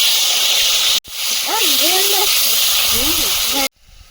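Onion and tomato hit hot fish-frying oil with black cumin in a kadai, giving a loud, steady sizzling hiss that fills the clip while a voice talks over it.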